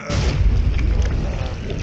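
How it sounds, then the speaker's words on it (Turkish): A heavy, booming explosion of a bloated zombie in the video game Dying Light, with a deep rumbling low end, loud and sustained across the whole moment. "This huge bloated infected just fucking exploded."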